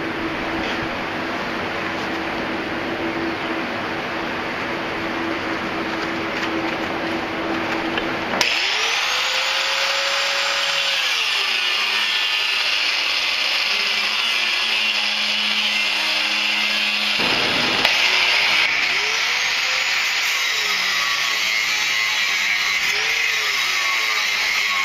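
A power tool cuts a knife blank: after a low hum, a loud, sustained, high-pitched grinding whine starts and runs without a break, its pitch shifting slightly as it works.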